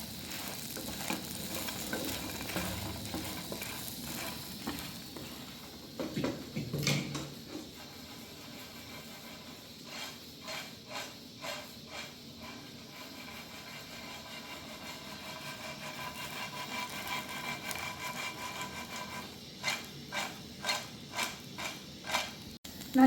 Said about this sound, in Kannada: ಹಾಕ್ಕೊಂಡು ಚೆನ್ನಾಗಿ ಮಿಕ್ಸ್ ಮಾಡ್ಕೋಬೇಕು.